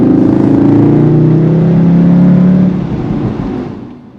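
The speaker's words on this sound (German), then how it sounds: "der synthetisierte Motorensound, der über die Lautsprecher in den Innenraum gespielt wird und wie ein Mix aus AMG V8, Reihe 5 Zylinder und imperialem TIE Fighter tönt" A Cupra Formentor's synthesized engine sound plays through the cabin speakers, a loud, close droning growl that rises in pitch like acceleration, then fades away.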